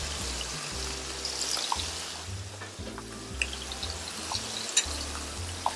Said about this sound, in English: So now I'm gonna add my vegetables. Tomatoes over here,